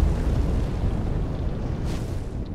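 Sukuna's Fuga fire attack in the Minecraft Jujutsu Craft mod: a dense, roaring, rumbling blast that stays loud and sustained throughout, with no talk over it.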